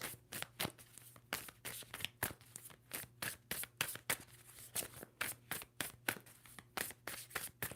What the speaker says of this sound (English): Two more shuffles for Gemini.